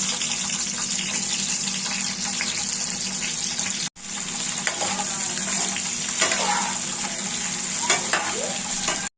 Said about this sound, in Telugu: ఆయిల్ హీట్ అయ్యాక ఆయిల్లో ఒక 15 మినిట్స్ ఫ్రై చేసి పెట్టుకోవాలి